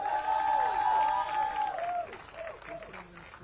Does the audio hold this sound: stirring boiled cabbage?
no